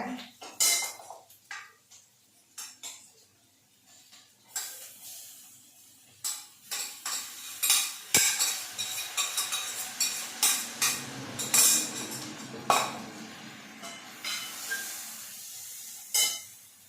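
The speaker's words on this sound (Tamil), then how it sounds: "வெங்காயம் வதங்கிடுச்சுங்க." Sautéed onions stirred in a cooking pan for a green gram sundal, with a spoon repeatedly scraping and clinking against the metal in irregular bursts and a soft sizzle underneath, close and moderately loud, with no talking.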